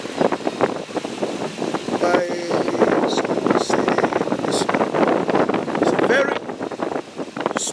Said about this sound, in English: It's so windy right here, man.